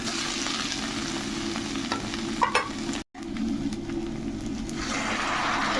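Vegetables fry in a pan with no water added, giving a steady sizzle with stirring scrapes, briefly cut off once midway, then continuing as a constant crackling hiss.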